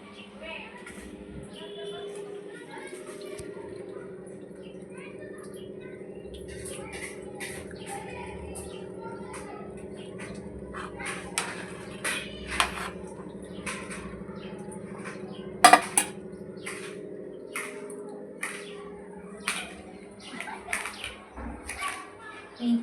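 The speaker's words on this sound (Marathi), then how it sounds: "सिमला मिरची झाली बघा बारीक चिरून" A knife finely chops capsicum on a board in a home kitchen, with sharp, uneven taps that grow more frequent and louder toward the end, under a low steady hum and someone talking.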